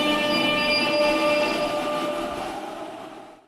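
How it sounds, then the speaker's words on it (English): A train in a public transport game mod rolls along with steady wheel rumble and high squealing tones, fairly loud and alone, then fading out toward the end. "After passing the blue signal, the train drives without a driver until it passes a full traffic light."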